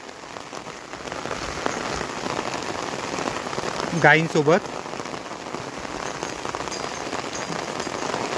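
Steady rain falls outdoors on open grazing land where cows and goats are out, a dense even hiss from start to end, with a voice briefly speaking midway.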